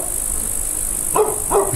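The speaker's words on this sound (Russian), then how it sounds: "Собака неистовствует, хочет вырваться на волю." A village dog barks twice near the end, agitated and straining to get free, sounding somewhat distant over a steady high-pitched hiss.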